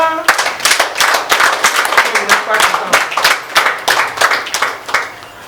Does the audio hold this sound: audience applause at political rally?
yes